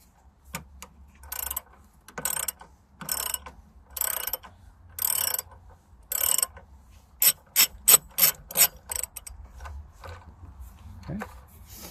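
A 10 millimeter ratchet loosens the negative terminal on a car's AGM battery, giving bursts of rapid clicking in repeated short strokes, close and crisp, with faster back-to-back bursts toward the end.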